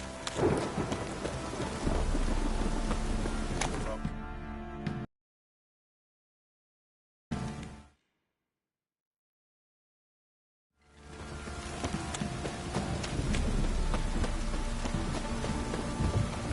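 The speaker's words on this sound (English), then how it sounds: "This downpour's a bastard, it is." Heavy rain pouring steadily with rumbles of thunder in The Witcher 3: Wild Hunt, cut by two stretches of total silence before the downpour resumes.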